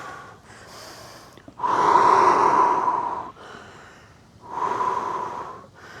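Heavy, audible breaths during a beginner full-body morning mobility exercise, two long loud exhales separated by quieter inhales, close to the microphone with no talking.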